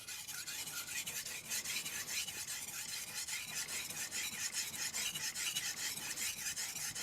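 A Meglio MagnaCut kiritsuke knife is drawn across a King Neo whetstone, producing a continuous, close, gritty rasping scrape with a steady back-and-forth rhythm throughout.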